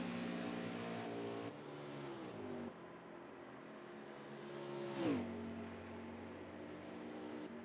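Race car engines in an online racing game league at Auto Club, one car's harmonic engine whine rising and falling through shifts, with a sharp rev spike midway, sustained and close.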